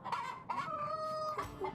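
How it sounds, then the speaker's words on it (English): A rooster in the video game Yes, Your Grace crows in a drawn-out call with clucking bursts around it, close and clear with no voices over it. "A rooster."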